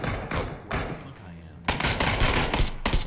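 Gunfire from the battle game PUBG cracks in loud bursts and short rapid volleys, with a quieter lull in the middle, and a voice talks over parts of it.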